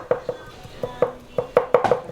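Knife chopping meat for larb on a wooden board, quick soft thuds in uneven bursts of two and three, close and clean with no talk.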